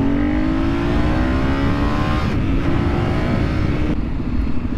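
A 2013 Ducati 848 EVO V-twin sport motorcycle revs and pulls away, its engine note rising steadily in pitch under steady wind noise, loud and close.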